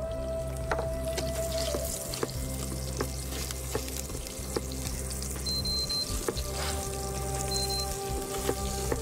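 Black cumin seeds crackle and sizzle in hot oil in a pan, a steady dense frying hiss with small sharp pops scattered throughout, close and fairly loud, no talking.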